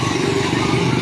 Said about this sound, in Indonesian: moge atau motor gede mulai berdatangan sejak kemarin